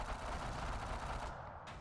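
Continuous gunfire in the WWII shooter game Operation Avalanche, a dense rattling fusillade of shots, loud and steady, with no one talking.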